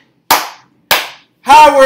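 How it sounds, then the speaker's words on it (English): A group at a community meeting claps twice in unison on cue, two sharp, loud, evenly spaced claps with silence between them, followed by the start of a voice. "Let's give them two claps, two more, two claps, two more."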